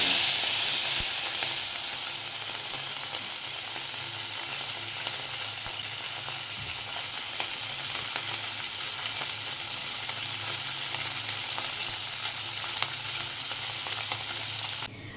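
Small mourola fish fry in hot oil, producing a dense, continuous hissing sizzle that holds steady and close throughout before cutting off at the end.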